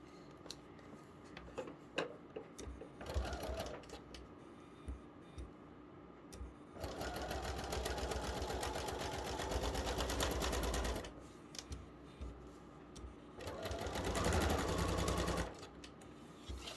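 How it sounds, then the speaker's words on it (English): A sewing machine stitches fabric right alongside a sheet of paper for paper piecing, running in two sustained whirring bursts separated by quieter handling clicks and rustles nearby. "we're going to sew right alongside the paper."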